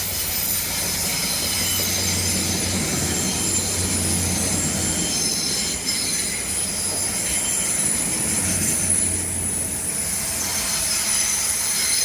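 A train rolls steadily past on the rails in Teignmouth, a continuous loud rumble with metallic wheel noise and a faint high squeal throughout.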